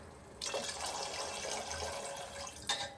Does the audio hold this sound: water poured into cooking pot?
yes